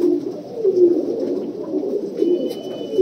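An Amritsari pigeon coos close by in soft, repeated low throaty rolls, steady and fairly loud, with no talk over it.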